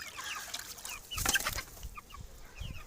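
Young chicks clucking around a shared milk dish in the early morning, with soft scattered peeps and clucks, one louder burst in the middle, over faint farmyard background noise.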